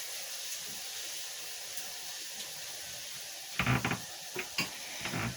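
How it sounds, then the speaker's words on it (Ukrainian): Onion and carrot frying in a pan, a steady sizzling hiss with a few brief clattering bursts near the end as the vegetables are stirred. "час часу помішую, щоб цибуля із морквою добре зарум'янилася"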